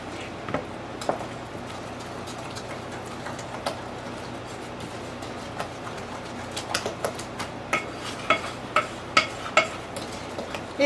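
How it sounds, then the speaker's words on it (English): Chocolate chips are stirred into sourdough cookie dough with a steady, soft scraping and patter, and sharper clicks of the utensil against the bowl grow more frequent toward the end. "Alright, so we're going to mix that in,"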